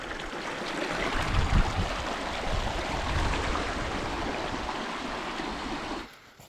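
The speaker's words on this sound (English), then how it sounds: "All that snow that's melting up the mountain is coming down in these little mountain streams" A small mountain stream of snowmelt rushes steadily and close by, a continuous broad wash of water that holds even for several seconds before cutting off abruptly near the end.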